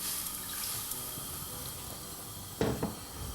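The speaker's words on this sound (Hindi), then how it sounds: "So I'll put some hot water in there already." Hot water poured into a cooking pan to steam chicken in a TV kitchen, a steady running hiss with a brief louder splash and sizzle near the end, no voices.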